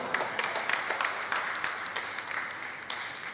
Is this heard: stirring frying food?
no